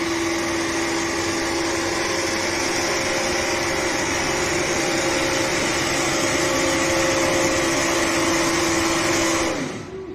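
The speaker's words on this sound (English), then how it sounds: "Up against the rev limiter here." Cockshutt 40 tractor, a Canadian Oliver, in a truck and tractor pull, engine held flat out against the rev limiter as a loud sustained droning whine, then cutting off abruptly near the end.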